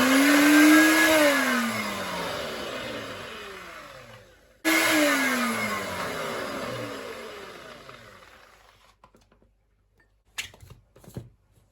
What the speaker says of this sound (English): So now I'm going to blend this in my blender.